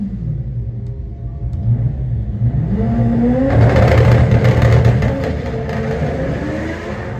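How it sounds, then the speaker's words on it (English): A drag race car launches hard down the strip at Santa Pod during a test day, its engine roaring loud and close with a rising, revving note that swells to a peak and then holds as a heavy, rumbling blast. "Good launch. He's fighting the car hard."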